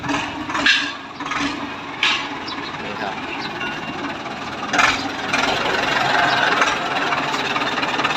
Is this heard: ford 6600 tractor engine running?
yes